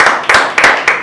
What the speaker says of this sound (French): Est-ce que vous pouvez applaudir pour lui,